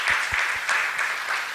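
An indoor audience claps for a research panel at a Kenyan national research festival event, a steady, moderately loud round of applause with no talk over it.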